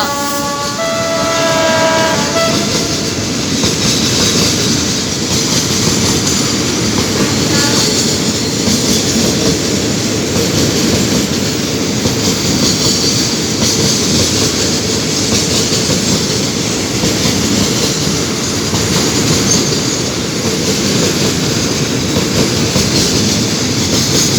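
Alsthom diesel locomotive number 4133 hauls a crude oil freight train, a loud, steady rumble of engine and rolling wagons filling the whole stretch, with a brief squealing whistle-like tone at the very start.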